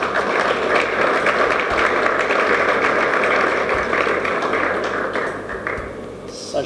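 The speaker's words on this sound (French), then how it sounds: "Veuillez l'applaudir également." An audience at a ceremony in a hotel gives sustained, dense applause for a prophet being introduced, a steady clatter of many clapping hands that thins toward the end.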